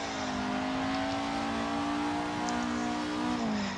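A drift car in the racing game Assetto Corsa holds a steady, sustained engine drone at high revs, then drops slightly in pitch near the end, loud and continuous with no voices.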